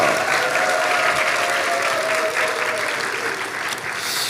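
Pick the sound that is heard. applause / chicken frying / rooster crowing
applause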